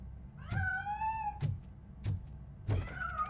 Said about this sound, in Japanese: にゃーん言うてるね。